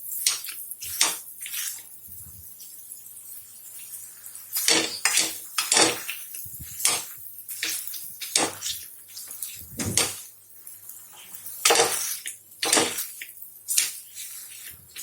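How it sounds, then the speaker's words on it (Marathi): A masher repeatedly scraping and knocking through boiled egg bhurji in a pan over a low flame, with irregular clanking and scraping strokes up close and no speech. "स्मॅशरच्या साहाय्याने हे चांगलं असं मिक्स करून घ्यायचं"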